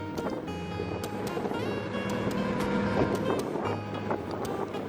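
Sea waves washing and breaking against the shore of Onrust island in the Thousand Islands, a steady near wash of surf with gusty wind and faint engine-like hum, no voices.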